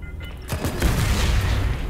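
A gunshot fires in the sci-fi shooter video game Selaco, a single heavy boom followed by a deep rumbling tail that fills the rest of the moment.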